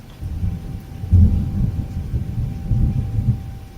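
Low thunder rumbles from a rare cold-weather thunderstorm with intense lightning, rolling in a few swelling waves over a soft background of rain, deep and moderately close, with no talking.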